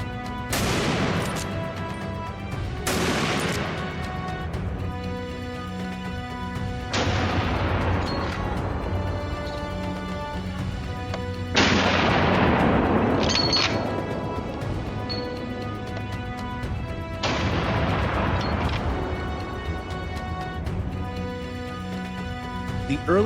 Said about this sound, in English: I couldn't hesitate any longer and began firing repeatedly.